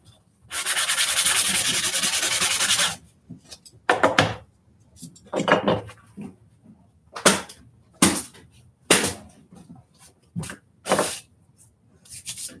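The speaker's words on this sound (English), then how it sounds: "Just dust some of the paint off and it's still got enough grit on it to keep it going." Sandpaper rubs paint off a Nerf blaster, first in one long steady scrub, then in a string of short, close, rhythmic strokes.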